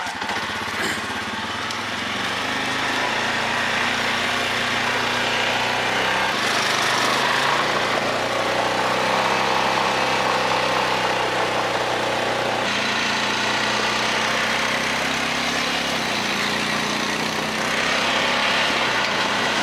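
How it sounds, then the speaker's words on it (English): A Honda Rubicon Foreman 550 ATV engine runs steadily and loudly at close range, a continuous buzzing drone that shifts slightly in pitch as the throttle changes, with no voices. "today we were riding on the Honda Rubicon Foreman 550"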